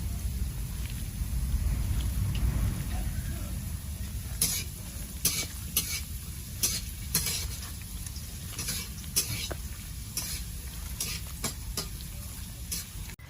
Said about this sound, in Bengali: এবার ভালো করে এটাকে মেখে নেব।